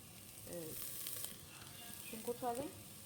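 Onion sautéing in butter in a pan, a soft, steady sizzle with faint stirring clinks and a brief voice in the background, quiet and close.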